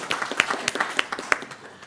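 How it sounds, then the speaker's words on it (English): Brief applause from a small audience at a Lake County commission meeting, a scattered patter of individual claps from several people, fairly close and moderately loud. "Clap for Camp Boggy Creek."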